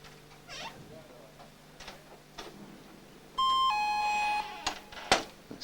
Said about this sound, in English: That's the buzzer signaling he has 30 seconds to complete the lift